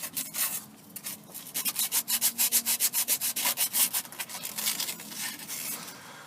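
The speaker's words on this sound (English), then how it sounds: "we're just cleaning up the mounting surface of the starter motor" Scrubbing the starter motor mounting surface on a Rover 45, a burst of quick, rhythmic back-and-forth abrasive rubbing strokes, close and fairly loud, easing into slower, irregular scraping.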